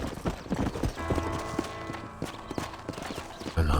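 Horse hooves clip-clop steadily at a walking pace in the Red Dead Redemption video game, a continuous rhythmic series of close, clear footfalls with no talk.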